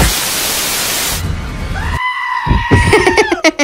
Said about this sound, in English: a screaming goat from the new Xbox game Goat Simulator